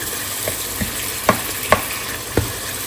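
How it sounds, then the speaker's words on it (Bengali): Oil sizzles steadily as spiced chicken pieces with garlic fry, with a few sharp clinks of a utensil stirring in the pan, close up and without talk. "এই যে মুরগিটা আমি একটু সময় ভেজে নিচ্ছি"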